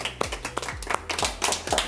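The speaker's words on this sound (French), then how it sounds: "Moi je vous applaudis" A hypnotist claps for the participants after bringing them out of trance, a quick run of sharp, close hand claps in an uneven rhythm, fairly loud and alone.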